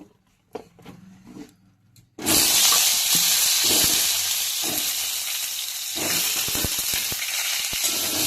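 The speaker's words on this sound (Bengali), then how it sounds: "এবার পটলগুলোকে ভালো করে নেড়ে চেড়ে একটু লাল করে ভেজে নিতে হবে" Slices of pointed gourd (potol), partly peeled and cut diagonally, sizzle loudly in hot oil in a pan, a sudden burst of frying after a few quiet seconds of light clatter, then a steady hiss with occasional stirring clicks.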